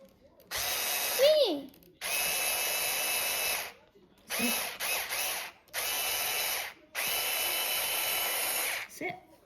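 A power drill runs in repeated bursts while an ARRMA Typhon Grom RC car is stripped down, whining close and loud for a second or two at a time with brief pauses and a short voice between.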